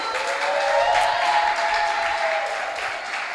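Applause from a TEDx audience in an auditorium, steady dense clapping held at an even level throughout, with a faint tonal hum running underneath.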